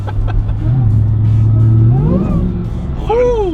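A Demon Hemi V8 in a Jeep Gladiator revs up loudly from a steady low idle drone, rising in pitch with a brief climb near the end, heard from close inside the truck.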